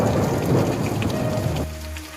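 Steady heavy rain pours down with a low rumble of thunder underneath, the rumble fading partway through while the rain hiss continues.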